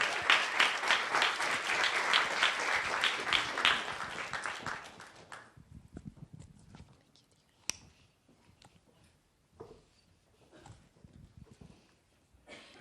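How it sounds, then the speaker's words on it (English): Audience applause for community innovators at a children and youth resilience summit, a loud sustained round of clapping from a crowd that fades out after about five seconds, leaving quiet room noise with scattered faint sounds. "Can we have another round of applause for our innovators in the building skills theme?"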